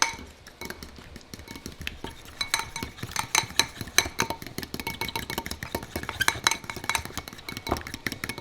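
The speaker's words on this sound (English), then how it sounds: "We're gonna use a fork, and we're just gonna mix that up" A fork whisks a spicy mayo-style fry sauce in a bowl, giving quick, irregular clinks and scrapes of metal on the dish that stay close and steady, with a faint low hum underneath.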